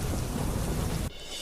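Heavy monsoon rain pours down in Ahmedabad with thunder, a loud, dense roar that fills the scene and then suddenly drops to a quieter patter near the end.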